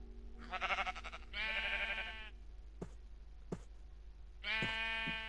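Sheep bleating in the Minecraft video game, several loud, close, wavering bleats in separate bursts, with a few short clicks between them and no talking.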